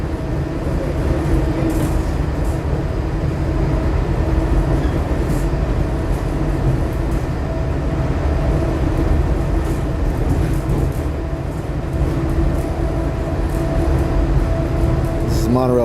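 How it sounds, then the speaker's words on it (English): A Walt Disney World monorail cruising at top speed, a continuous loud rumbling drone with steady tonal hum and rattles inside the car, voices talking faintly beneath it. "Monorail top speed. It's about 40 miles an hour, 40 or 43, give or take a little."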